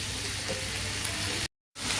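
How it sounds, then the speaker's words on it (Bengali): Green chillies fry together with other ingredients in a pan for a pasta dish, giving a steady, close, loud sizzle that cuts out briefly near the end and then resumes. "কাঁচা লঙ্কাগুলো দিয়ে একসাথে সবগুলো ভাজছি, একটু লাল লাল হবে।"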